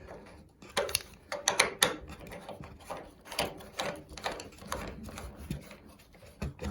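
A garden hose being screwed onto the drain valve of an A.O. Smith hot water heater, giving a close run of small clicking, ratcheting and scraping noises as the fitting is turned.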